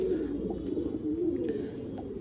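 A Surkha pigeon coos softly and continuously, a low rolling warble close by, with faint background noise.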